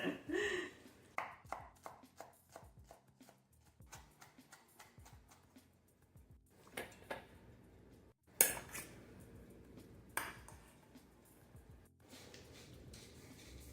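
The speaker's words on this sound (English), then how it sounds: "Now for the herb butter, we need to chop all herbs." Knife chopping fresh herbs on a board for herb butter, a run of quick knife taps early on, then scattered louder chops and clatter of kitchen utensils, close by with no talking.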